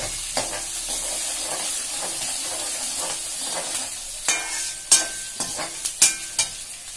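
Green chillies and onion sizzle steadily in a pan for semiya rava upma, with occasional stirring clicks and spoon knocks growing sharper toward the end.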